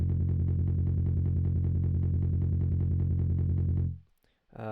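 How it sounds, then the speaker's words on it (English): A thick, buzzing synth bass holds one loud, steady tone for about four seconds, then cuts off abruptly before a brief new sound enters. "It's just a fat sounding bass tone which I managed to achieve."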